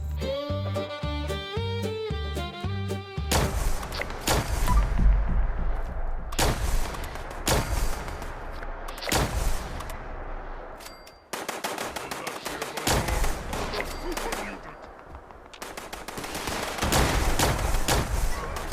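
Loud, repeated weapon fire in a video game arena, coming as heavy booming shots and rapid bursts over a musical backdrop, with short pauses between volleys.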